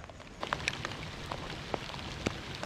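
Light rain falling outdoors during a fishing trip, a soft steady patter with a few distinct drops ticking close by, no voices.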